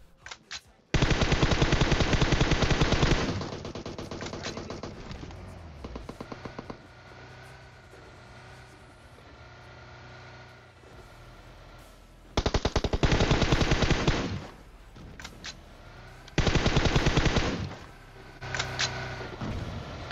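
Rapid automatic gunfire from a gun in the video game PUBG Mobile rattles in loud sustained bursts, one long spray followed by two shorter ones, separated by quieter ambient game noise.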